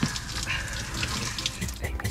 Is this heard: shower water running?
yes